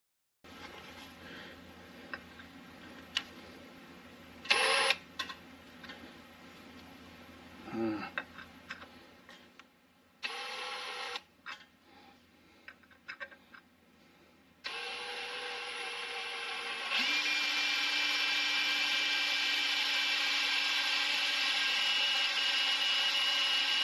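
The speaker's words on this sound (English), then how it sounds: "let's try and drill this next" Drilling into a part of a 1930 Ford Model A engine, intermittent bursts of a power tool starting and stopping, then a steady, louder whirring drill run, close with background clatter.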